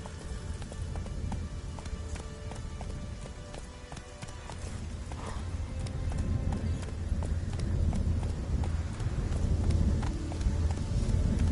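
Roach, the horse in The Witcher 3, gallops with a fast, steady clip-clop of hooves close by, the rhythmic pounding growing a little louder and denser over several seconds, with no voices.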